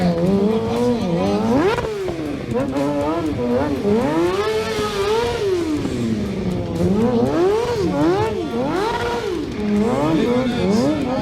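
A loud motorcycle engine revs repeatedly at a stunt show, pitch sweeping up and down in rapid bursts, with a crowd or announcer voice running underneath throughout.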